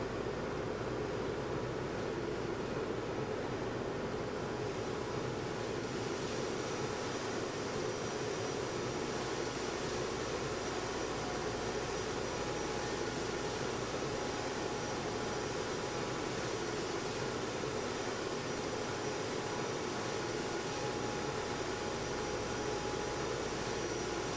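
Exterior engine noise of a jet airliner in the X-Plane 12 flight simulator game: a steady, loud, unbroken drone with a broad roar and no voices, holding evenly for about twenty-four seconds.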